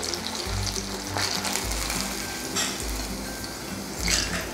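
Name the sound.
eggplant bajji pieces frying in hot oil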